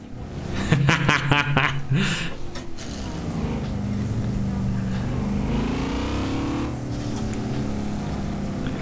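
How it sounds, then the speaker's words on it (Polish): A BMW X5M engine drones loud and steady as the SUV drives in Forza Horizon 4, opening with sharp revving bursts and gear changes before settling into a continuous sustained hum, with no talking. "Jedziemy sobie teraz X5M. Ładnie brzmi, nie?"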